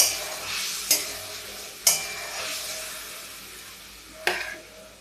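Soaked mustard paste and two green chillies frying in hot oil, a soft continuous sizzle broken by a few sharp clinks of a spoon stirring the pan.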